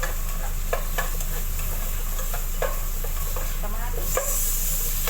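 Ginger sautés in a pan for Filipino chicken tinola, with a steady sizzle under repeated scraping and stirring strokes from a utensil against the pan.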